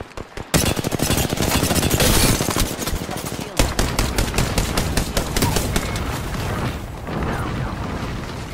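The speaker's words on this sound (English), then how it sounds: "They're shooting at me!" Apex Legends gunfire erupts abruptly after a brief lull into loud, rapid machine-gun bursts, with a short gap before another long stream of fast shots that gradually thins out near the end.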